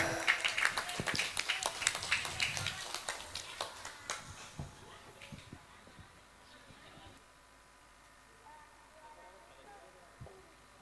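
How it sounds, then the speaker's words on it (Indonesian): Audience at a Quran school graduation ceremony claps, with dense, lively clapping for about four seconds that thins to a few scattered claps, followed by a quieter stretch. "Tepuk tangan yang meriah."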